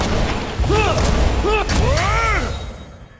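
Bomb explosions in the fantasy role-playing game Pillars of Eternity, several booming blasts in quick succession with ringing, swooping tonal effects, loud and close, mixed with battle noise.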